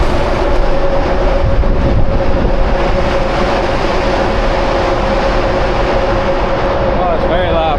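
Loud, steady roar of cars passing through a road tunnel, a dense rumbling wash with a sustained tonal hum that sounds almost like a train going by, close and continuous throughout.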